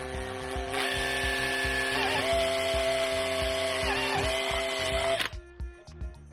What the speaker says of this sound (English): hopefully stay in the right place as I drill it